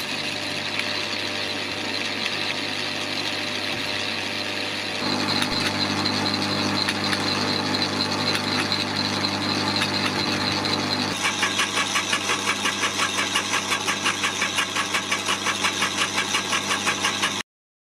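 Two 2800 W electric garden shredders, a Lidl Parkside and an Aldi Ferrex, running loud and close with a continuous motor whine and buzzing roar that shifts character partway through and grows harsher toward the end.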